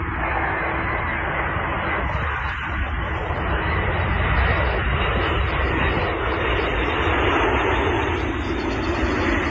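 Engines of the Antonov AN-225 cargo plane roar as a loud, continuous broadband rumble that holds steady throughout, with a faint higher whine riding on top.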